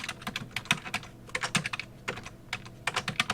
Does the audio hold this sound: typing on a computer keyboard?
yes